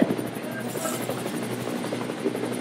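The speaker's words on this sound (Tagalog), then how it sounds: "Helicopter!" A helicopter passes overhead with a fast, steady rotor chop and buzzing drone across the whole short stretch, while faint voices are heard in the background.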